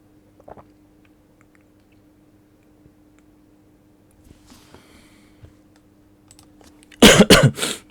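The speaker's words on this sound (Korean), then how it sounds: "아유, 기침이 한참 나와가지고" Coughing fit from a lone speaker pausing mid-lecture, heard as a close, loud burst of several rapid coughs near the end after a long quiet stretch.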